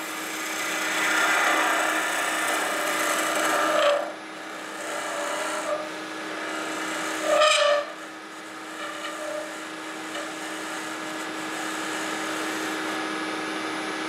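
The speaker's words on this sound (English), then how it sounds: "And transition in again into a scraping cut on the side of the sphere to try to maintain the shape of the sphere." A wooden kuksa cup spins on a lathe while a tool makes a scraping cut on the side of its sphere, giving a steady rasping hiss over a constant motor hum, with brief surges and a short break midway.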